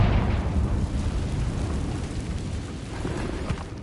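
Confringo blasting spell exploding in Hogwarts Legacy, a loud, rumbling burst of broadband noise that holds and slowly fades across a few seconds, heard alone.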